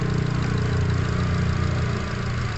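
A 2004 KIA Carens II automatic engine with a P0102 airflow sensor fault runs loud and steady up close, a dense, continuous drone with little variation in pitch through the whole stretch.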